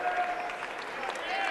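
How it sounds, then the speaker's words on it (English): A crowd at a girls' high school basketball quarterfinal claps in a dense, steady wash of applause, with a commentator's voice running over it. "Round of applause for her."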